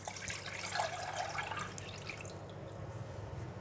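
Clear vegetable soup is poured into a pot in a steady liquid splash and trickle that tapers off after a couple of seconds, close and fairly soft.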